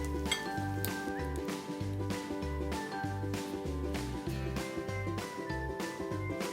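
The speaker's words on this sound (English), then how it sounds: "I'll whisk this up" A whisk beats buttermilk, egg and hot sauce in a bowl for corn dog batter, a quiet rhythmic swishing with light repeated clinks against the bowl, close and fairly soft.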